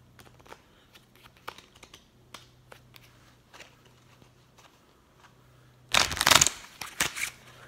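A deck of playing cards is handled during cardistry. Light, sparse taps and flicks lead into a sudden loud burst of riffling and shuffling near the end, with a few sharp card snaps after it.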